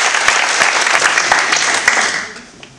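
Audience applause at a Kenpo karate training camp in Sweden, a dense wash of many hands clapping steadily that thins and fades toward the end.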